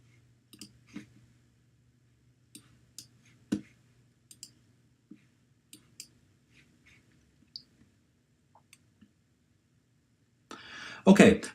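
Sparse, quiet mouse clicks fall at irregular intervals while someone works on Ethernet connection settings on a computer, with a low steady hum beneath and a brief louder rustle at the very end.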